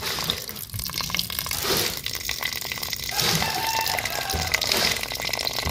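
Water runs weakly from a kitchen tap into a sink in a house still under construction, a steady splashing trickle heard close and alone.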